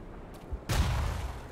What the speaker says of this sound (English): Just random explosion.